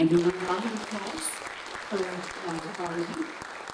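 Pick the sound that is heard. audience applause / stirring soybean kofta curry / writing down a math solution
audience applause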